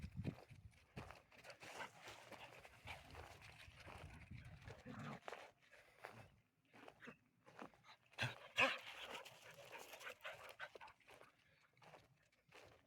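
Four heeler mix dogs trot around outdoors in the Arizona desert while trees are being watered, their paws and tags making soft scattered footfall sounds and occasional light whimpers, with a person talking intermittently nearby.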